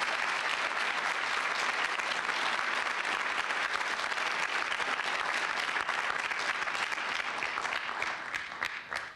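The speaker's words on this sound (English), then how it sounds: "Can we get another round of applause to the speakers today?" Sustained applause from an audience at a youth speaking event thanking the speakers, a dense steady wash of many hands clapping for about nine seconds before thinning slightly at the end.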